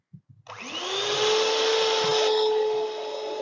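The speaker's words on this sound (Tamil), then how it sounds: "இப்போ பார்த்தீங்கன்னா ஃப்ரெண்ட்ஸ் நான் ஆறு முட்டையும் உடைச்சிட்டேன் இப்போ நம்ம இவரை பீட் பண்ணுவோம்" Electric hand mixer whirring steadily as it beats six eggs for a cake batter, switching on after a few soft clicks and running loud and even with a slight pitch shift.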